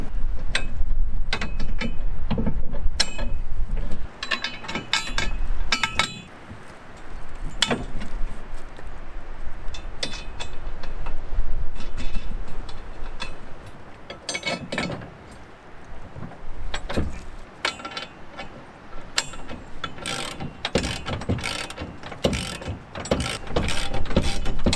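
Ratchet wrench tightening bolts on towbar mounting plates, in quick bursts of clicking ratchet strokes separated by brief pauses, close and fairly loud with metallic clatter.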